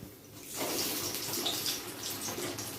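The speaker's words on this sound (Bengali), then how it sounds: "মিডিয়াম ফ্লেমে ভাজছি চপগুলো" Aloo chops, Kolkata street-style potato fritters, frying in hot oil in a pan over a medium gas flame. A brief quieter moment gives way to a loud, dense, steady sizzle that continues to the end, with no talking.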